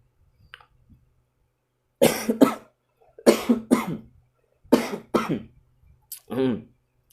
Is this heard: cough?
yes